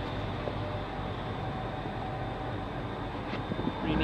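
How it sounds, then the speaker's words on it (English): A 1998 Lincoln MK VIII LSC Collector Edition idles through its dual exhaust with polished tips, giving a quiet, steady, smooth low rumble with no talking over it. "Got dual exhaust all the way out the back."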